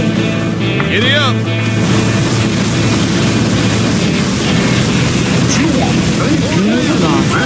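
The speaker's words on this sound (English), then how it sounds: "Allied particle cannon activated." Heavy explosions from an allied particle cannon strike in the game Command & Conquer Generals Zero Hour, with booming impacts and rumbling blasts layered over engine drones and sweeping tones, loud and continuous throughout.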